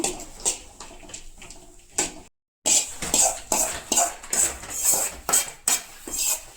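Cashews being dry-fried slowly in a pan for dry fruit laddu, with a spatula clinking and scraping against the metal in irregular bursts and a brief silent gap partway through.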